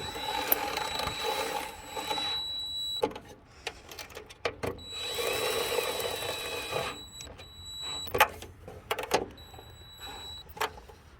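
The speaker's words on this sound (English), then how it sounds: "Then you finish them with your drill nicely." A power drill driving bolts whirs in several bursts of a few seconds each, with ratcheting mechanical clicks between runs, fairly close by, on a Frymaster FPPH2 industrial electric fryer.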